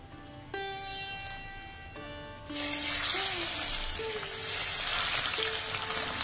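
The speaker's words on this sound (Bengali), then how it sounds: "বড়িগুলো ভাজা হয়ে গেলে তুলে রেখে মাছগুলোকে এক এক করে ভাজার জন্য দিয়ে দেব।" Bata fish slid into hot oil after fried lentil dumplings, breaking into a loud, dense close sizzle that carries on steadily after a quieter stretch of faint clinks and tonal kitchen sounds.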